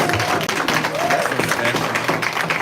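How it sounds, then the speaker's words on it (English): Audience applause at a Black History honors event, steady clapping from a crowd with some scattered voices mixed in throughout. "Let's give it up another round of applause for them, for themselves"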